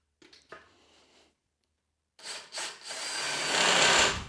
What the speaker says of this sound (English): I'm going to drill the other corner